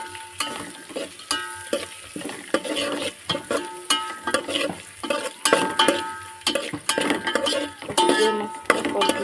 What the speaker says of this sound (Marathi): मस्त परतून घेते मी त्याला.